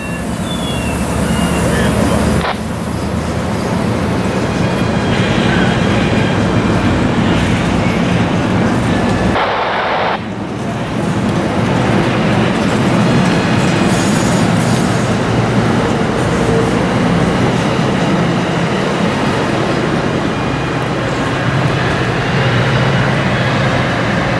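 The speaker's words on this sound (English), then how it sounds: "That was MARC train P877" A MARC commuter train departs Point of Rocks station westbound, a steady loud rumble of rolling rail cars and engine close by, with a brief dip partway through.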